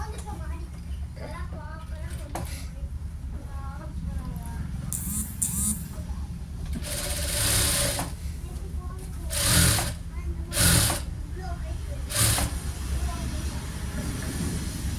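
A sewing machine stitches fabric in short runs, its motor whirring and clattering close by, while a person talks over the hum of a steady background drone.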